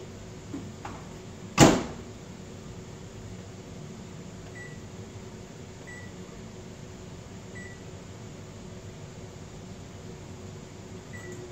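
A microwave oven runs with a steady low hum throughout, with a sharp click or clunk near the start and a faint electronic beep repeating every couple of seconds.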